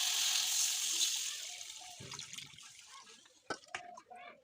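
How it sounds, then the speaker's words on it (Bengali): Water is poured into a cooking pot on a clay stove, a brief rushing splash that fades within a couple of seconds, followed by soft clinks and faint kitchen sounds. "জল দিয়ে দেবো"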